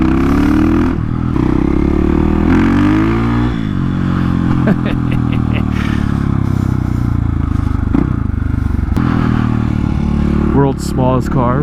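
A 450 supermoto conversion motorcycle rides through city streets, its loud engine revving and shifting steadily up close throughout, with traffic noise around and a rider talking over it.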